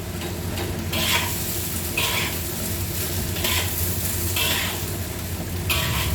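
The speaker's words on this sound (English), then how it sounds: "Now you can add in the yam that we fried earlier." Fried yam pieces go into a pan of fried shrimp and are stir-fried for yam rice, giving steady sizzling with a few scraping stirs of a spatula against the pan, close and continuous with no talking.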